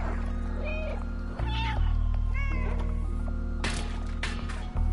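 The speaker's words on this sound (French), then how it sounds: "Et miauler." The cat in the video game Stray meows several times, short rising cries over a steady low in-game hum, followed by louder scuffling sounds near the end.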